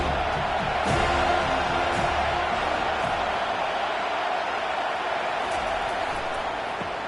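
A football stadium crowd roars in a loud, sustained wash of cheering and noise late in a game as the defense pushes to get the ball back, steady from start to end.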